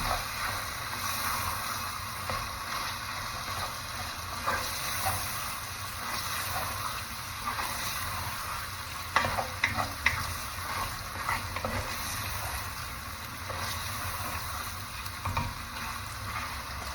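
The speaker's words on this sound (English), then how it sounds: "Now I'm going to let it fry a little more so we can add the rice." Chicken fries in hot oil in a pan, giving a steady close sizzle with scattered crackles and spatters and a few louder pops partway through, and no voices.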